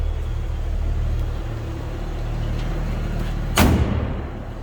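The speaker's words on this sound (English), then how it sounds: "Door closes nicely." The door of a 1965 Chevrolet C10 pickup slams shut with a single sharp, heavy thud over the low idle of its inline-six engine.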